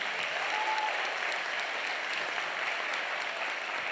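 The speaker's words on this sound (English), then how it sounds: "Give them a round of applause, please." Applause from a school concert audience for three student helpers, a steady dense wash of many hands clapping at once, fairly loud and unbroken throughout with no talk.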